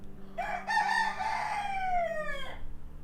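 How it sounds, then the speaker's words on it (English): A rooster crows once, a loud, close cock-a-doodle-doo lasting about two seconds, with faint background noise and no talking. "that rooster is doing his best right there."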